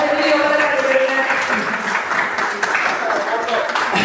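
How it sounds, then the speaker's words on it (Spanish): An audience applauds during a public talk on the Baile de los 41, a broad wash of clapping that stays steady and fairly loud, with a voice speaking over it. "Y un aplauso, Emilio, por favor."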